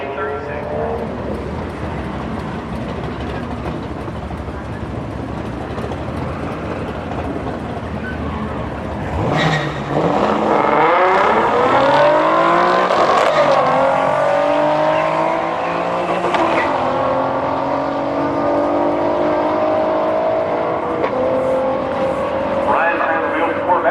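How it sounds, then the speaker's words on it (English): A Corvette and other supercars drag racing off the start line: loud engines rev and rise sharply in pitch as they launch with tire noise, an announcer-like voice running over the roar. "Ryan behind the wheel of the Corvette gets the race"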